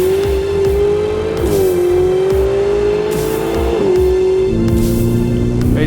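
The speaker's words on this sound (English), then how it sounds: "Acceleration in fifth gear." A 2016 Ferrari 488 GTB sports car accelerates hard in fifth gear, its loud, close engine note climbing steadily in pitch with a couple of brief dips, and no voices over it.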